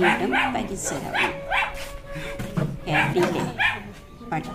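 A dog barks and yips repeatedly at a dairy farmer's house, a rhythm of close, sharp barks mixed with whimpers, under continuous talking.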